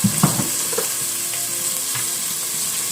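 Onion and shrimp sizzle and fry in a pan, a steady close hiss with a few soft clinks and stirring scrapes early on, no talking.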